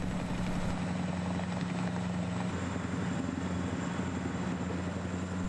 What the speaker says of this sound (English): The helicopters and the noise and the wind that was generated from their landing and picking up these bags